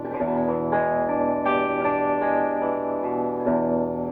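Electric guitar on the treble pickup played through a Mason Dixon DA-101 overdrive pedal, a few sustained distorted chords ringing out with light reverb, no voices.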